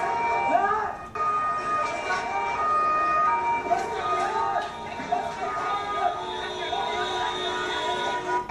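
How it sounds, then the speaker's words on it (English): Police car sirens wailing at a protest, several overlapping rising and falling tones at mid distance, sustained across the scene with crowd noise and voices speaking over them. "then you hear the sirens of the police cars"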